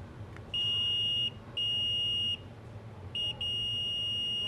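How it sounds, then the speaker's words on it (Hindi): Electronic beeping from the upper section of an OPPO F1S phone circuit board under repair testing, a steady high tone sounding in four separate bursts of varying length over a faint background hum, with no talk. "जो ऊपर का भाग है ये वहाँ पे बीप बज रहा है।"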